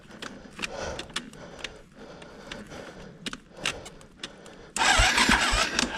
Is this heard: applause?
no